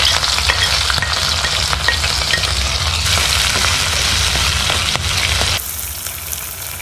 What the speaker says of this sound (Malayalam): നമ്മൾ ഇനി ചതച്ച് വെച്ചേക്കുന്ന ഇഞ്ചിയും വെളുത്തുള്ളിയും പച്ചമുളകും കൂടി അതിലേക്ക് ഇടുവാണ് കേട്ടോ.